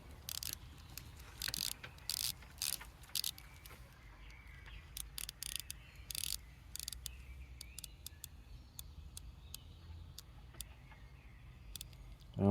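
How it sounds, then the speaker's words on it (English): Titanium Seestern S430 dive watch bezel turned through its 120-click ratchet, giving sharp close clicks in uneven bursts with short pauses, loud over a quiet background with no talk. "Oh yeah, the bezel action is god awful."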